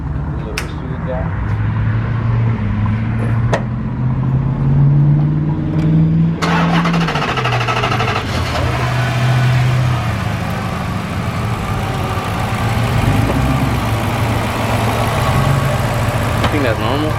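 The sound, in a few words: Chrysler car engine first startup after new TRQ ignition coils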